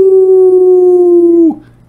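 At an indoor water park resort, a person imitates a wolf howl: one loud, close, steady tonal howl held for about a second and a half before it breaks off and fades into quiet room noise.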